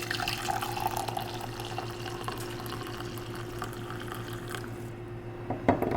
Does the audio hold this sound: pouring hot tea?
yes